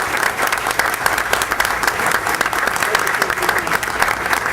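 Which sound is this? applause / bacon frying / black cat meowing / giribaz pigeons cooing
applause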